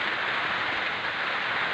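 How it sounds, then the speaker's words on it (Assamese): Heavy rain pours down steadily, a dense, even hiss of falling water that stays constant and fairly loud through the short stretch, with no voices. "একদম গোটেই একদম গেলা বৰষুণ বতৰ"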